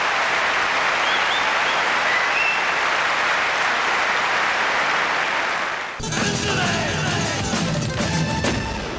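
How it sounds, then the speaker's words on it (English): The crowd around Wimbledon's centre court applauds at the 1992 championships, a loud, dense, sustained clapping that fills the space and carries on after an abrupt shift partway through. "This crowd around center court applauding both players as they return to the baseline."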